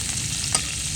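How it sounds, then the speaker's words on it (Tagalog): Two salmon slices fry in butter with a little cooking oil, giving a continuous close sizzle and crackle with one brief sharper pop. "Now, isalang ko naman ang 2 hiwa ng salmon."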